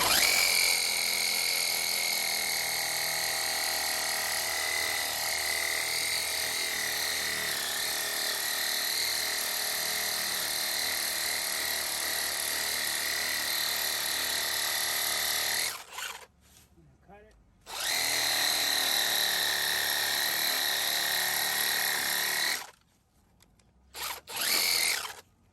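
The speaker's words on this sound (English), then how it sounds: "if I could just cut the bark, not the actual tree, but just the bark, and you know, peel it off with the Sawzall" A Sawzall reciprocating saw with a long blade cuts into tree bark, a loud sustained buzzing whine close by that stops briefly twice and resumes, with a voice speaking in the pauses.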